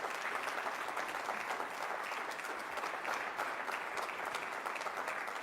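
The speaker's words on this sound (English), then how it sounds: "let's give all of you and our esteemed guests a huge round of applause" A large audience at an Amway India corporate event breaks into sustained applause, dense and even throughout, with no voices over it.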